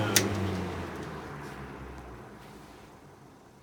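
A small Fasco blower motor winds down after running on high, its low hum and airy whir fading steadily, with a faint click near the start and no talk over it.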